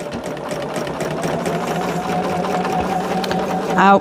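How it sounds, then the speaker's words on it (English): A sewing machine runs continuously up close, stitching quilt fabric for a flowering quilt block. The motor hums evenly with a rapid needle chatter, rising briefly in pitch near the end. "We are just going to sew how many is it?"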